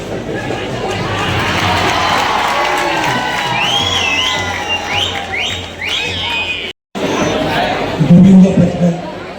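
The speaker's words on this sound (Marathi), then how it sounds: "तिच्यासाठी पण टाळ्या झाल्या पाहिजे." A crowd cheers, shouts and claps for a girl climbing a seven-tier human tower at a Govinda pathak festival celebration in Dapoli. The noise is loud and sustained, with sharp whistles and a nearby voice partway through.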